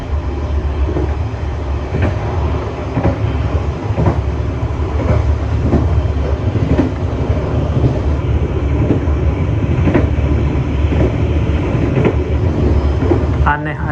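Interior of the Airlangga train passing Sragen station at speed, a steady loud rumble with rhythmic clickety-clack of wheels over rail joints throughout.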